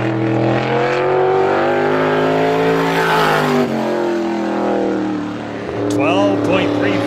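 A 350 Super race car laps Star Speedway in time trials, its engine droning loud and near with a steady rising pitch that sweeps past and fades, while an announcer talks over it.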